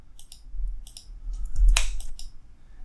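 Sharp clicks of a computer mouse while editing in Adobe Premiere Pro, with one louder, crisp click standing out among lighter clicking and keyboard-like taps, close and dry with no voice.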